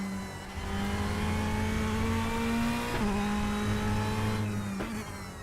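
A Ferrari race car engine at Interlagos in RaceRoom holds a loud, steady high-pitched drone that rises and falls through gear changes, close and continuous with no talk.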